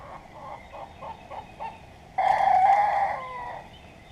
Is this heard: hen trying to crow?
yes